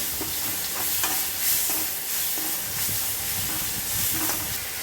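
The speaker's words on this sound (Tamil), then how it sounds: "இஞ்சி பூண்டு விழுதை வந்து சேர்த்து திருப்ப வதக்கணும்" Ginger garlic paste sautéed with onions in a pan for chicken liver fry, a steady broadband sizzle and hiss with soft periodic stirring scrapes, close and alone without talk.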